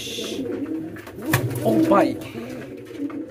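Pigeons coo around a newly hatched pigeon chick, soft throaty calls repeating close by while someone speaks briefly over them.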